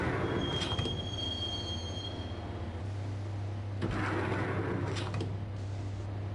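A train ride in the video game Max Payne, with a steady rumbling drone of rolling railcars, screeching wheel squeals and brief bursts of clatter rising and falling throughout, no voices.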